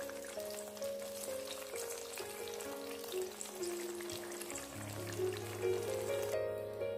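Spinach frying in desi ghee for Lahori hareesa, a continuous dense sizzle with bubbling crackle that holds steady throughout, close and fairly loud, with no voices.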